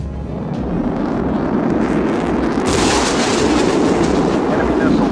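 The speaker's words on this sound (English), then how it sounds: "Enemy missile fired." An enemy missile launches in the jet combat game Sky Gamblers: Afterburner: a loud, continuous roaring rumble that swells partway through and stays heavy to the end.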